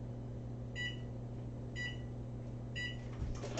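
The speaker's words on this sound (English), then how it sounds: "I also just realized I never turned the oven on here" An oven control panel gives three short, clear electronic beeps at even intervals against a quiet room hum, with a faint clunk at the end.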